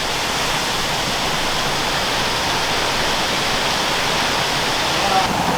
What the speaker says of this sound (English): So this is a hot spring, but it's coming out the top of a building.